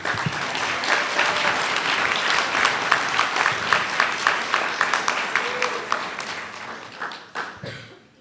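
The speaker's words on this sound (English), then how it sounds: "let's hear a big round of applause for the class of 2017" Graduation ceremony applause for the class of 2017 rises from a large audience, steady dense clapping that swells and holds, then thins and fades out near the end.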